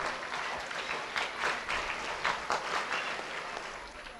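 Audience at a school college event applauds with steady, fairly distant clapping that holds evenly for several seconds, quiet overall with a few louder peaks.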